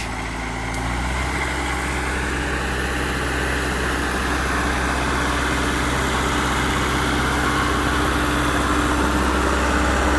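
A tractor engine runs steadily and loudly with a deep, constant rumble throughout, close by, while ploughing a weedy field, without any talk.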